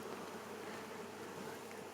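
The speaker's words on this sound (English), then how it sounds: "I can detect the bees are getting a little more" Honeybees swarm around a Flow Hive brood box, a continuous close droning buzz of many insects, steady and even with no voices.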